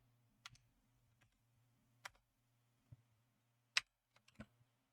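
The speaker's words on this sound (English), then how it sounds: "Sorry, I bought a new keyboard." Typing on a new computer keyboard: sparse, irregular key clicks, a few louder taps among quieter ones, close and fairly faint, with a low steady hum underneath and no talking.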